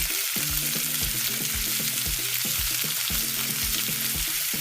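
Fresh harvest mixed vegetables sizzle in a soup pot for creamy curried corn soup, a steady close hiss of frying with soft stirring underneath, no talking.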